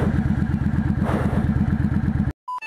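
Motorcycles at a motor meet in Georgia, with a close, loud engine putting out a fast, even pulsing rumble that stops abruptly, followed by brief clatter.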